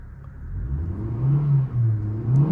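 A Maruti Suzuki Swift CNG engine revs up close by, a steady mid-pitched hum and rumble that rises in pitch, dips briefly, then climbs again.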